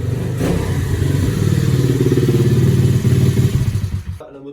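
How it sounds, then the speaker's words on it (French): A serviced motorcycle engine runs at a steady idle close by, its loud, even mechanical throb and clatter continuing for several seconds before cutting off abruptly near the end. "je vais la mettre en route"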